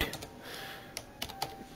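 A terminal command being typed on a computer keyboard while installing XRDP on an Ubuntu server, heard as a few quiet, irregular key clicks close by.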